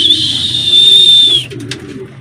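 Racing pigeons coo in a loft, a soft low cooing murmur running throughout under a sustained high whistle that cuts off midway, followed by a few faint chirps.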